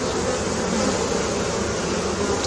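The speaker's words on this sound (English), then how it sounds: "Okay, frisky bees. I'm trying to move fast for you." Honey bees of the Italian strain buzz loudly and continuously around an open hive during a July inspection, a dense close-up hum with no pauses and no voices.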